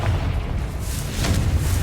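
A Confringo blasting spell explodes in Hogwarts Legacy, giving a deep rumbling boom that swells and rolls on for nearly two seconds, with a second burst partway through, loud and alone.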